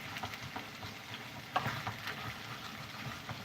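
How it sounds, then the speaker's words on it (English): A wooden spoon scraping the bottom of a pan of Guinness stew, soft irregular scrapes over a low bubbling sizzle, with one sharper knock midway. "So I'm not really stirring this, I'm more scraping the stuff off the bottom, and that's stirring it automatically."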